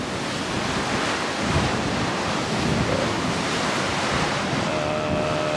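Steady roar of ocean surf heard from a cruise ship balcony at sea, mixed with gusting wind buffeting the microphone, continuous and loud, with no voices.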